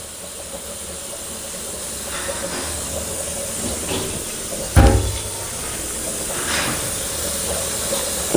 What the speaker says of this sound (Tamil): இப்போ இதில் நம்ம சுடுதண்ணியை கொதிக்க வச்சு